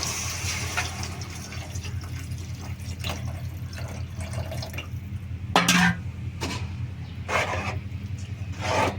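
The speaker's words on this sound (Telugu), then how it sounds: "చింతపండు పులుసు పోసేద్దామండి" Tamarind juice poured into a curry pot of stuffed brinjal and prawn curry, a steady liquid pour and splash over low background hum, with a few louder knocks and splashes partway through.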